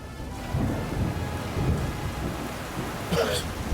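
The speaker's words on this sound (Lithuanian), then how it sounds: "Juk lyja." Rainstorm outdoors, with steady rain and deep thunder rumbling in repeated low swells over a constant wash of falling water, and a brighter burst near the end; no voices are heard.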